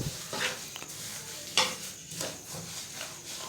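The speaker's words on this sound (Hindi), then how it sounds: "और साथ ही हम इसमें डालेंगे जी तिल। और इसे भी अच्छे से मिक्स कर लेंगे।" Sesame seeds being stirred into a til chikki mixture in a pan, with a few distinct scraping strokes over a soft sizzle. The sound is close and fairly quiet, and nobody speaks.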